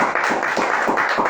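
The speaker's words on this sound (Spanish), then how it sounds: "yo les pido un fuerte aplauso para Carlos" Rhythmic clapping from an audience at a book presentation in a community museum, steady and fairly close, with no talk over it.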